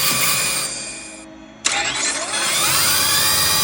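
A LEGO Technic Porsche Taycan model's motor whines steadily, winds down briefly, then kicks back in with an abrupt jolt and a rising, sustained electric hum as it drives.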